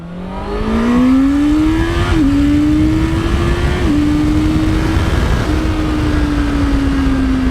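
A 2025 Honda CBR650R E-Clutch motorcycle on a twisty road revs steadily and climbs in pitch, with brief dips at each gear shift, under heavy wind rush and no talk.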